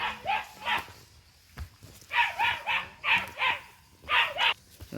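A playful dog barking in short bursts, pairs and triplets of sharp, close barks separated by brief pauses, with some whimpery yips mixed in.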